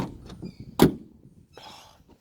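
A single solid thunk of a 1974 Honda Civic door shutting near the middle, with faint background rumble and a brief higher rattle afterward.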